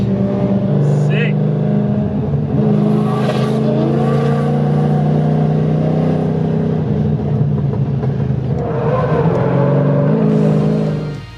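A drift car from the Australian Drift Club at track time on an empty SMSP circuit, its engine droning and revving steadily, loud and sustained, with a voice talking over it.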